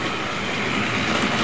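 A Hornby Triang model train running on its track gives a steady, continuous rumble and whir with faint rail clatter, close and unbroken, with no talking.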